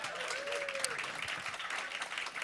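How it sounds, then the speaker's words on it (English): Audience applause for a California donor group at a live preshow, a soft, distant wash of clapping that stays steady for a couple of seconds, with a brief tonal whistle near the start. "So let's give them a big round of applause."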